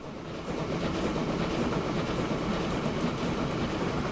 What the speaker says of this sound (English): That train's going.